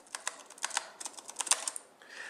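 Nokia 2520 Power Keyboard keys clicking in quick irregular taps, with a sharper spacebar press catching on a mechanical obstruction, close and fairly quiet.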